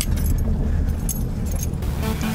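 Keys jangling near a parked car on a New York City street, a loud close rattle of metal keys shaking continuously over a steady low rumble of traffic.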